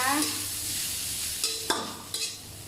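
Mashed fish fries in a pan over medium heat, a steady close sizzle with a few sharp scraping stirs near the end.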